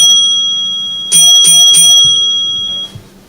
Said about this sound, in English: The bell code 23 indicates that the engine has been offered to the signalman at this location.